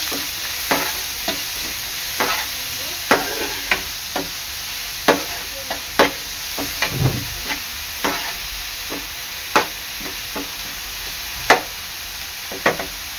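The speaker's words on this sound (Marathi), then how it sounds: "कांदा चांगला शिजवून घ्यायचा आहे" Onion sautéing in a pan, with a steady hiss of sizzling and repeated scraping taps of a spatula stirring at a loose, irregular rhythm, close and fairly loud, with no talking.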